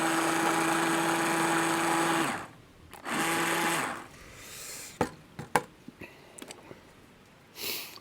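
A blender blending birria sauce roars for a couple of seconds, stops, gives one short burst, then falls quiet apart from a few light clicks and clatters.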